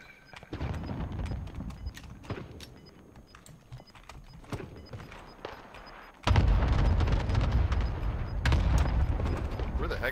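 Shotgun fire in the Warzone video game on Rebirth Island, heard as repeated sharp blasts among near footsteps and game noise, growing denser and louder in the second half.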